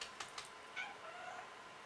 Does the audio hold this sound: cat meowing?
yes